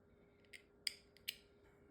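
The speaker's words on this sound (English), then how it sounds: "Cut a piece of thread, thread your needle." Scissors snip thread at a sewing table, a few quiet crisp clicks and snips spaced across a near-silent background.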